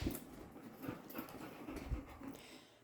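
Dogs pant rapidly and steadily close by, a continuous breathy rhythm with a few soft shuffles mixed in, no voices present.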